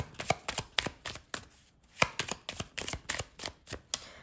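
An oracle card deck being shuffled by hand, a rapid run of crisp riffling slaps and flicks in irregular bursts, close and fairly quiet, no voices.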